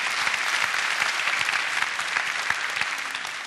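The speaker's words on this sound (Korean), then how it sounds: "이분들에게 좀 박수를 좀 보내시죠." An audience at a talk-show style lecture event claps for young couples being honored, producing a full, even burst of applause that fills the few seconds without letup.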